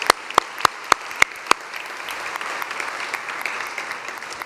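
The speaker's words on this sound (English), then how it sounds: "another round of applause, please" A conference audience applauds, starting with a few sharp, loud individual claps in a slow rhythm before the crowd joins in with steady, dense applause that holds to the end.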